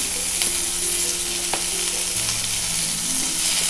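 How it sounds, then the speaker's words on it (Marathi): Sliced onion frying in hot oil in a pan, a loud, steady sizzle and crackle throughout with faint stirring clicks and no voices. "कांदा मी उभा चिरून घेतला आहे तेलामध्ये भाजून घ्यायचं आहे"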